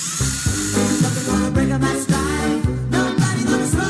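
A power drill whirs in a Screwfix radio advert, a high, revving motor whine in short repeated bursts, loud and close, set against rhythmic sound design.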